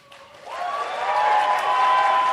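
An audience at a New Jersey lieutenant governor debate bursts into applause that swells and holds steady, with a faint voice at the start.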